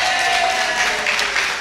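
A church congregation at a Sunday service claps together in a brief, dense, steady burst of applause that fills the room at close range.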